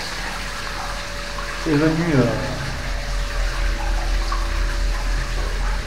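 Underground river water flowing steadily through a cave, a continuous broadband rush that holds through the whole stretch while a person talks over it.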